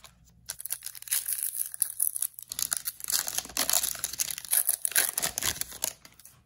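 Cellophane wrappers on 2020-21 Optic basketball card blaster and cello packs are torn open by hand: a quick burst of ripping, then several seconds of close, loud crinkling and tearing that rise and fall in irregular bursts.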